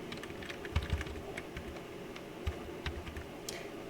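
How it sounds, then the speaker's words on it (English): Keys pressed on a computer keyboard during design work, a run of light, irregular clicks and taps at close range over faint background hiss, with no talking. "You get closer by pressing the plus button on your keyboard."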